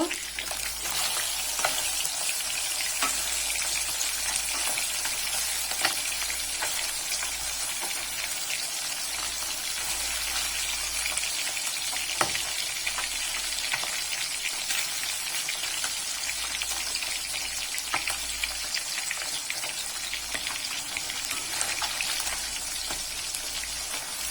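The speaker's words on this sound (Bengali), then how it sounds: "মাছ একদিক ভাজা হয়ে গেছে, উল্টে দেব" Small puti fish fry in hot oil in a pan, giving a steady, close, continuous crackling sizzle with scattered pops that holds evenly throughout.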